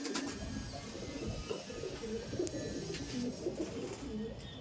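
Old Madras pigeons coo in a steady stream of low, rolling calls close by, layered over a busy background of other birds and faint household sounds.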